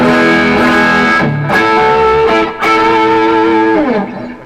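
A heavily overdriven electric guitar through a JHS Pedals Exotic BB clone high-gain pedal plays sustained, buzzing notes and slides, loud and saturated, then rings out and fades.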